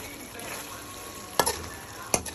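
Vegetables and onion sautéing together in a pan for Filipino pork igado, a steady soft sizzle throughout with two sharp clattering stirs of the utensil partway through.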